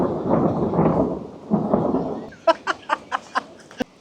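Thunderstorm on the Eiger Trail in Switzerland: a long, deep rumble of thunder rolls over the first two seconds, followed by a run of sharp, evenly spaced cracks or snaps.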